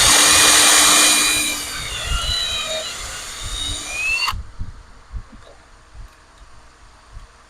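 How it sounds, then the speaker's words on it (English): A power drill bores through hardwood plywood for a bathroom cabinet, a loud high whine lasting about four seconds that cuts off abruptly, followed by quieter handling knocks. "It takes a little more effort to drill through."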